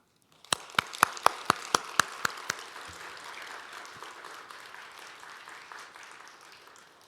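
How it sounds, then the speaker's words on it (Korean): A church congregation at a special dawn prayer service claps: several sharp, evenly spaced claps ring out first, then spread into a softer, sustained round of applause welcoming the preacher. "우리 나오실 때 오늘은 박수로 맞이하겠습니다"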